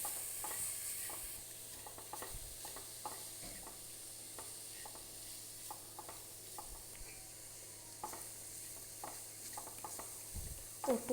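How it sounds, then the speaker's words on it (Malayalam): Chicken being stirred and mixed in a hot pan, repeated scraping strokes of a spoon over a soft continuous sizzle, close and fairly quiet, no voices. "നമുക്കിതിലേക്ക് നമ്മൾ ചിക്കൻ ഇട്ട് കൊടുക്കാം. നമുക്കൊന്ന് മിക്സ് ചെയ്ത് കൊടുക്കാം."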